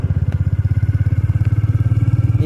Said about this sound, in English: now this is the sound of the bike.